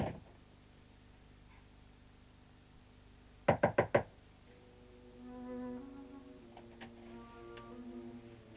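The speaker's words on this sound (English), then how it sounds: "Go in, I said, and don't come out until I knock." Four quick, sharp knocks on a door sound in close succession against a quiet room background, followed by soft tonal murmurs.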